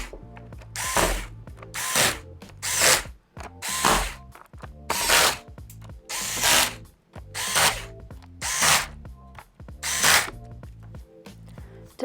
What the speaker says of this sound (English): And tighten up the bottom cover screws.